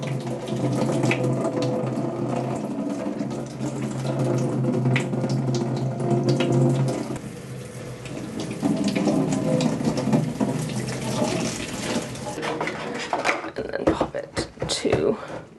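Hydrogen peroxide poured over a houseplant pot during indoor plant chores, a steady running, trickling liquid sound lasting most of the time, with a brief lull midway, then clattering handling at the end.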